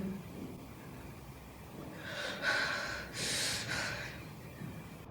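Heavy, ragged breathing in the horror video game Outlast, a few loud close gasps and snorting breaths rising over a dark, hissing ambient background.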